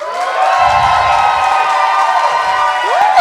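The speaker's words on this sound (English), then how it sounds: "Ooh, that's a good cheer, mate." A comedy club audience cheers loudly and steadily for a contestant, with whoops and shouts over continuous crowd noise, ending in a rising whistle.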